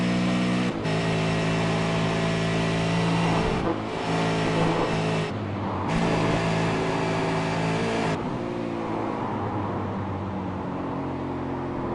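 A V8 Supercar racing engine howls through a flying lap at Virginia, loud and sustained, with rising revs broken by brief dips on gear changes and lifts.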